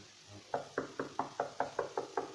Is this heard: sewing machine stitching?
no